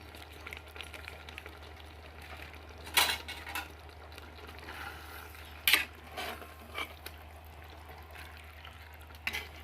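A spoon stirring biryani masala in a home kitchen pot, faint scraping and a few sharp metallic clinks against the pot over a low steady hum, with no talking.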